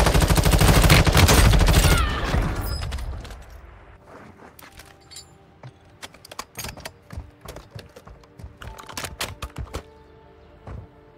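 Shotgun and other gunfire in the Warzone Mobile shooter game: a dense loud burst of shots at first, then scattered sharp blasts and clicks continuing at varying distances.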